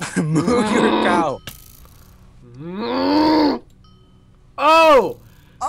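Three loud, drawn-out cow moos from a video game, the first long and wavering, the second rising and groaning, the third shorter and sharper, separated by brief quiet gaps with a low background hum.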